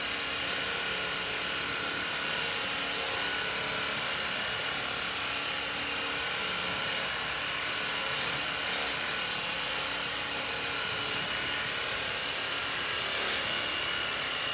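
Percussion massage gun running against muscle, a continuous even buzzing hum that holds steady and close throughout with no pauses.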